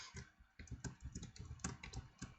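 A computer keyboard mashed rapidly during a parkour game, with quick, irregular clusters of clacking keystrokes heard close up but quiet, and brief pauses between the bursts.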